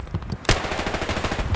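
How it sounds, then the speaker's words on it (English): Gunfire in the World War II shooter Hell Let Loose: a single sharp shot followed by a rapid, even burst of automatic fire, loud and close, with no talking over it. "I'm just shooting at a dead body."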